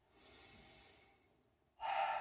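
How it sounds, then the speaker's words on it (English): Slow deep breathing during a yoga side lunge (skandasana) in a root chakra practice: a long, soft inhale-like rush fading away, then a stronger airy breath starting near the end, close and alone without talk. "We take 3 deep breaths in our skandasana or our side lunge."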